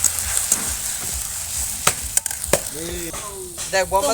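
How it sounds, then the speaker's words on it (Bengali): Spices including dried red chilli powder being sautéed in a pan at an outdoor picnic, with a continuous hiss of frying broken by a few sharp clicks and knocks, and a voice speaking briefly near the end. "তো মশলা আমার দেওয়া হয়ে গেল, এখন এটা আমি একটু কষাবো।"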